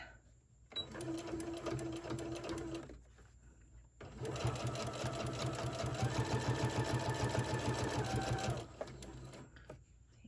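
Sewing machine back stitching across the straps of a small rainbow mini tote bag, running in two steady close bursts of rapid rhythmic stitching separated by a brief pause.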